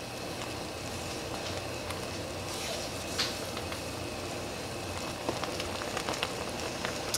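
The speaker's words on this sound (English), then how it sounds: "And then we wanna boil it hard for 1 minute." Strawberry jam boiling hard in a pot, a steady dense bubbling and popping that continues evenly close by, with small spits and crackles breaking through.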